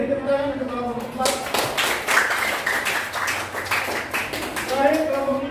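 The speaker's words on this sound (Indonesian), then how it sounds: "beri tepuk tangan untuk kelompok 4" A classroom group breaks into a burst of clapping for a presenting team, the applause lasting a few seconds between stretches of a teacher's voice before and after.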